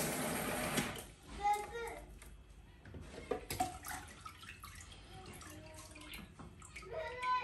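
Soybeans being rinsed under running water, splashing and trickling in uneven bursts close by, with brief clinks and a voice talking in the background.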